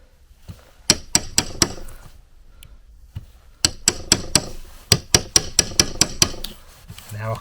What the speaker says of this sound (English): Get a nice clean chisel cut through, right?